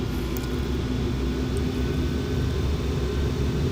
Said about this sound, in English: now let's take the engines up